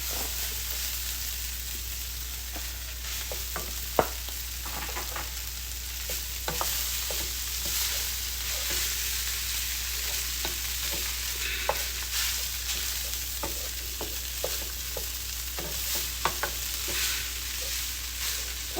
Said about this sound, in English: now we're going to add our rice. Again, it has to be cold rice.